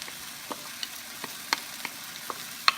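Shrimp paste cooks in a pan, a soft steady sizzle under scattered sharp pops and spits at irregular intervals, close and moderately quiet, with no talking.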